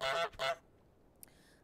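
A goose honks twice in a video game, giving two quick, loud honks close together. A faint click follows, and the rest is quiet.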